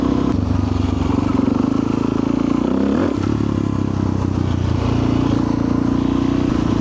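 A Suzuki DRZ400SM supermoto, a dirt bike on street tires, drones steadily while riding, with a brief shift in engine note midway and constant wind rush, heard close up with no talking.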